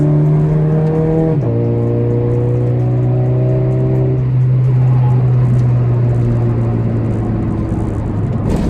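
Toyota GT86 four-cylinder engine fitted with an HKS exhaust, accelerating up through the revs with a strong, steady harmonic drone, a brief dip as it shifts, then holding a loud even tone alone.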